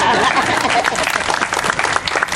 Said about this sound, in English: you can clap if you want right now